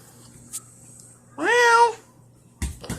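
A cat lets out a single clear meow in the middle, close and fairly loud, amid a quiet room with a few soft knocks before and after.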